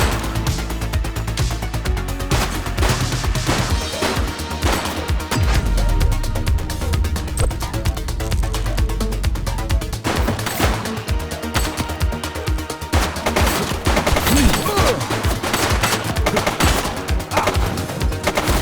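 Sustained rapid gunfire from The Precinct police game, bursts of automatic weapon fire layered with single shots and impacts, loud and continuous throughout with no talking.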